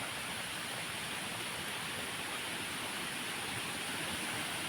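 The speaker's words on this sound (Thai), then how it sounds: "ถึงน้ำตกแล้ว" A waterfall roars with a dense, steady rush of falling water, loud and close, holding evenly throughout with no talking.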